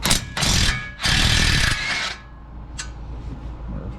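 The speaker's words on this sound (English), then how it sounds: "I'm just going to use my little impact. Here I got a swivel impact." A small swivel impact wrench rattles loose 15mm brake bolts on a Ford Maverick, with two loud, close hammering bursts followed by a short metallic tap and quieter workshop background.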